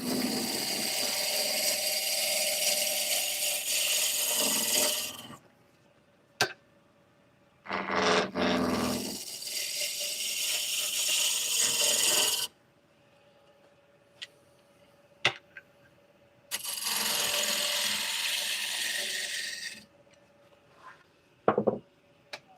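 A wooden bowl spins on a lathe while a bowl gouge cuts near the chuck, giving loud bursts of hissing, scraping cutting that stop and start between quiet gaps with small clicks.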